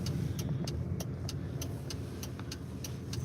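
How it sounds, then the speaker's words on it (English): A loud car engine drones steadily while driving, with a low, rough rumble and a regular ticking or clicking above it, the noise close and continuous throughout. "but hear my car, it be loud"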